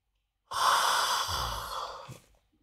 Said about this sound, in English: Sorry about that yawn.